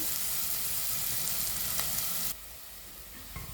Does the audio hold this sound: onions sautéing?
yes